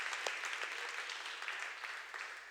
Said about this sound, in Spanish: Dale un fuerte aplauso al Señor que está aquí, en este lugar.